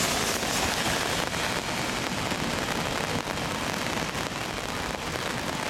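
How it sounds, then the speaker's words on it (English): Steady rain pours over an outdoor rowing course during an eights race, a dense, even hiss filling the whole stretch with no voices or breaks. "And the rain has fallen"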